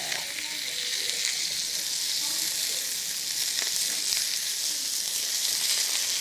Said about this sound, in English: we'll just give it a good sear on each side